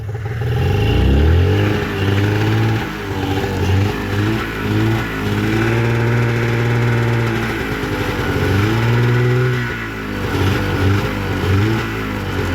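A 1996 Arctic Cat Cougar 550 snowmobile engine idles low and steady, a loud close-up throbbing drone that wavers gently in pitch over the whole stretch, running alone without voices.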